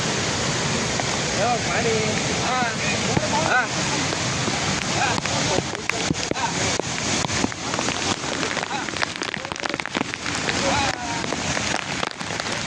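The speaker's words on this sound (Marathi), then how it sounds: "इथं जरा डेंजर झोन दिसतोय, पाणी वाहताना दिसतंय." Water rushing down a rocky stretch of the Kalsubai mountain trek, a loud, steady broadband roar like a stream or cascade, close and continuous, with faint voices and footsteps partly buried beneath it.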